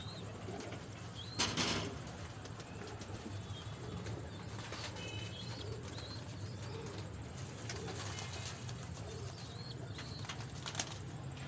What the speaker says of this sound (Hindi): ये सारे कबूतर अपने ब्लड में एक नंबर कबूतर हैं